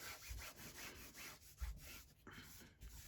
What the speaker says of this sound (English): I nearly got carpet burn on my thumb from rubbing it on the fabric.